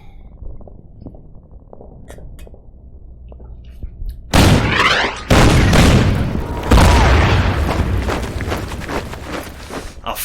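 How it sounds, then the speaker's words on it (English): Heavy artillery booms in the Order of Battle Pacific campaign strategy game, several loud, close blasts with rumbling decay after a quieter stretch of faint clicks. "A 4 health artillery shooting at us"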